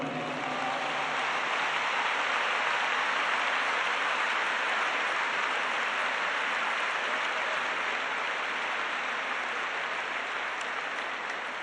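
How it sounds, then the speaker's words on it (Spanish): A church congregation applauds the Lord in one long, dense burst of clapping that fills the whole stretch evenly, steady and fairly loud with no voices on top. "Dale un aplauso al Señor."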